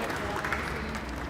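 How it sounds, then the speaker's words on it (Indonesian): A studio audience claps for a guest on an Indonesian talk show, a short burst of steady, fairly close applause from a crowd with no voices over it. "Tepuk tangan buat Teh Cindy."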